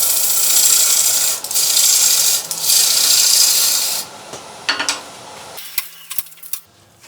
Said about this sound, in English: Just use that with the bowl gouge.